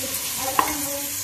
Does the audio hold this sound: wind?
no